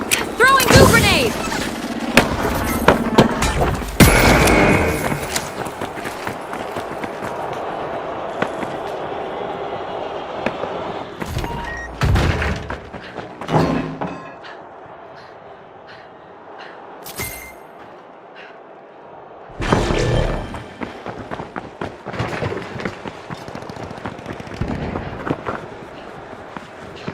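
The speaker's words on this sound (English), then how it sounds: "Throwing goo grenade!" A goo grenade is thrown during a chaotic match in The Finals, with bursts of game noise and impacts repeating through the scene, several loud hits early on and again near the end, mixed with voices.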